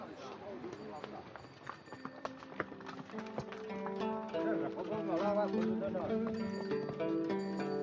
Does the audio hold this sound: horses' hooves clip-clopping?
yes